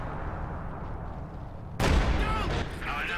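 In an online competitive tank match, a tank cannon fires one sudden, loud, booming shot that cuts through a low background rumble, followed by a brief rolling tail.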